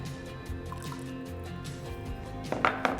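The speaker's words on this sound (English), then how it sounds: "we're going to add our butter here, which has cooled down, our vanilla and our egg just into our mixing bowl here with the milk" Butter, vanilla and egg tipped into a mixing bowl of milk for cinnamon baked doughnuts, giving soft wet drips and a brief pour, faint and close, with louder splashy plops near the end.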